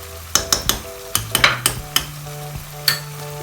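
A spoon scrapes and clinks against a pan while yogurt and spices fry for white chicken korma, with roughly nine sharp stirring knocks over a low steady sizzle, close and without talk.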